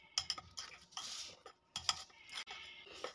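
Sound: stirring biscuit cake batter after adding Eno

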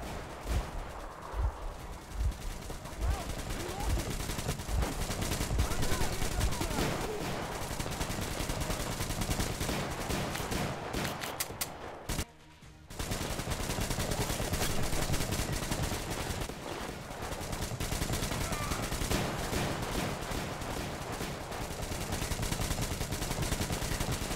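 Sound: gunfire from an enemy shooting at the player in Metro Exodus (video game)

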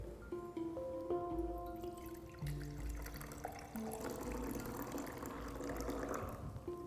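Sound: clear treated water decanted into a beaker

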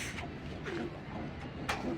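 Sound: giribaz pigeon cooing

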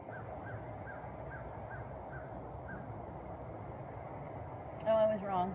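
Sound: birds calling outdoors

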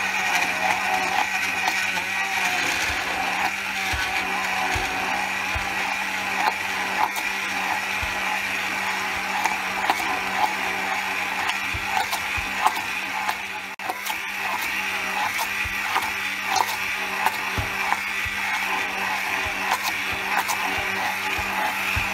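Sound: blender blending a homemade protein powder mixture

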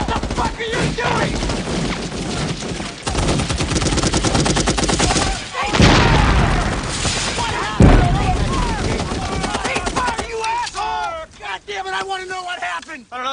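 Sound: rifle and machine gun fire in a war film

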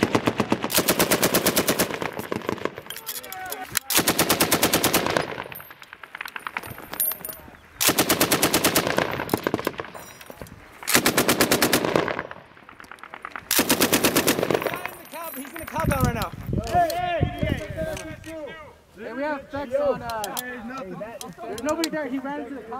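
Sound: machine gun fire in combat in Afghanistan

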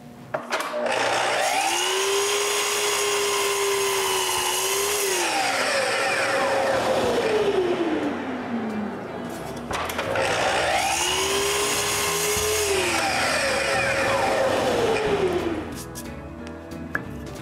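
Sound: saw cutting wood for a wooden bandsaw build

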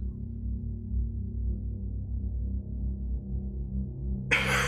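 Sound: granular reverb effect on synthesizer

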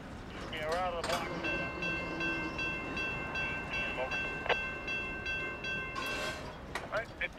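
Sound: Amtrak Cardinal passenger train passing

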